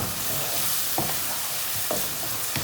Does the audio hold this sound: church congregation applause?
no